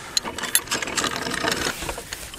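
A ratchet released on a replica ballista artillery piece gives a quick run of sharp mechanical clicks and rattles, close and moderately loud, over a brief stretch with faint outdoor background.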